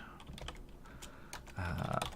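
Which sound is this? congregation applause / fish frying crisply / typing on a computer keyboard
typing on a computer keyboard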